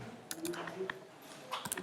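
Quick, light keystrokes on a computer keyboard while HTML code is typed, a short irregular patter of clicks heard close, with faint talk underneath.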